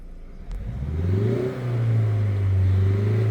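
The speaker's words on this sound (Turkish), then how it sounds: "egzoz değişmiş gibi hoparlörlerden ses geliyor arkadaşlar" A deep, synthetic engine rumble from a 2017 Renault Megane 4's speakers swells and holds steady, like a revving exhaust note, with no talking.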